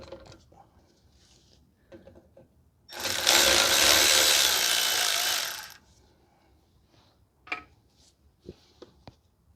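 A power tool, likely an impact gun, loosens a 10 mm bolt holding the parking brake cable on a 2005 Toyota Corolla rear brake, one loud steady burst of about three seconds between quieter clicks of handling parts in a garage.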